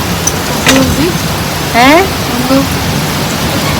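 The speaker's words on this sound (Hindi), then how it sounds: "कितनी ज्यादा तेज बरसात हो रही है भाई" Heavy monsoon rain pours steadily on the first day of Sawan, a dense, constant hiss that goes on under brief talking nearby.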